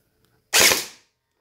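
A single sharp shot from a gel ball blaster firing orange gel balls, one loud close pop that decays quickly into silence.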